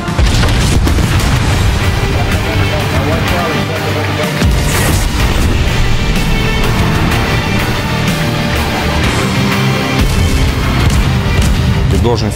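Heavy naval guns of the battleship USS New Jersey (BB-62) firing in battle produce a dense, loud barrage of booms and rumbling blasts that runs continuously for over ten seconds with chaotic overlapping noise.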